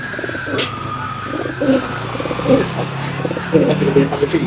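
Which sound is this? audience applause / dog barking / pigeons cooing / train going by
pigeons cooing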